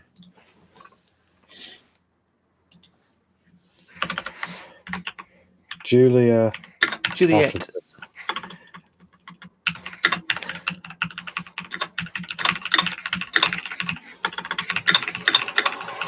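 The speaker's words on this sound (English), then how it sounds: "That's a great mechanical keyboard." Clacky keystrokes on a mechanical keyboard come in bursts, first sparse and then rapid and continuous, close and fairly loud, with brief speech in between.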